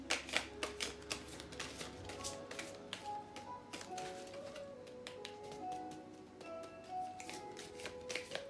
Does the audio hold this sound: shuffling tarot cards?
yes